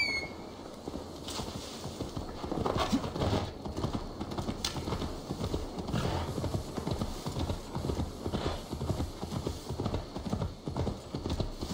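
A horse's hooves clip-clop steadily at a walk through the game world of Assassin's Creed Valhalla, a continuous moderately loud rhythm of hoof strikes with no talk over it.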